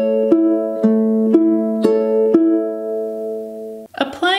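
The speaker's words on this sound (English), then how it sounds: "Bringing this pattern up to the tempo of this song will sound like this." Ukulele strummed in a steady pattern for a song, sustained chords with crisp strokes about every half second, close and clear, ending with a brief rattle of handling noise.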